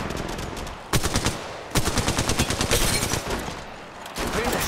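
Loud, rapid automatic gunfire in the Apex Legends Mobile shooter game, coming in dense bursts and clattering volleys that start and stop abruptly, with no speech over them.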